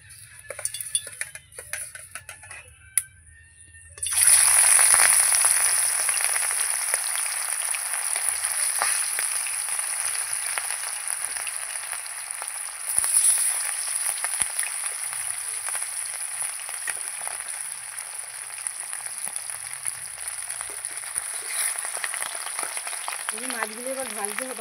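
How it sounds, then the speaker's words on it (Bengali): Fish pieces dropped into hot oil sizzle loudly and steadily after a quieter start, a bright continuous frying hiss with a few utensil clinks. "এই মাছগুলো এবার ভাজা হতে থাক।"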